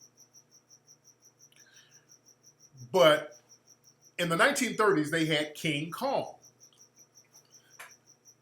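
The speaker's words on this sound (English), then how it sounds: "Yeah, there's crickets in here somewhere." A cricket chirps indoors with steady, evenly spaced pulses that continue through the whole clip, faint but clear, while someone talks over part of it.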